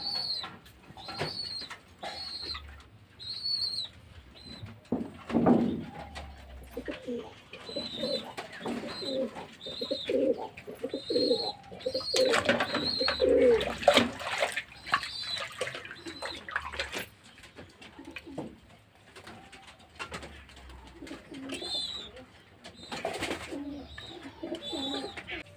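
Domestic pigeons being fed and given water coo repeatedly in soft, throaty bursts, some near and some farther off, with scattered splashing and rustling around them and no speech.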